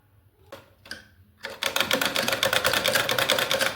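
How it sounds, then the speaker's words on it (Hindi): A sewing machine stitches cloth for a small doll dress, starting with a couple of brief taps and then running in a fast, steady, close rattle. "मैं सिल के आपको दिखा रही हूँ।"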